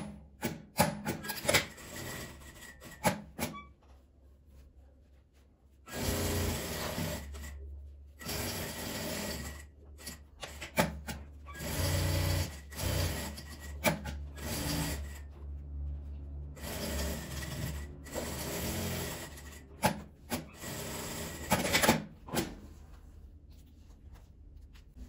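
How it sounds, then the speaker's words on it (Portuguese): A sewing machine stitches around pinned fabric patchwork pieces, running in several sustained bursts separated by quiet pauses and light handling clicks, close and fairly soft. "Eu alfinetei, agora eu vou costurar."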